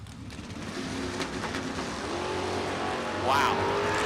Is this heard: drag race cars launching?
yes